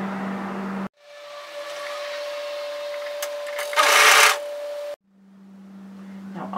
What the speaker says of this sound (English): we're going to overlock the shoulder seams